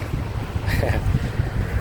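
Strong wind buffets the microphone at a canal fishing spot in Thailand, a steady low roar with gusty swells and a brief brighter hiss partway through.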